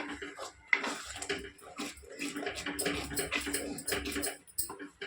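Tamarind juice poured into a pan of gongura chicken pickle and stirred, giving a steady watery splashing and trickling with light clatter throughout, fairly close and moderately loud, with no talk.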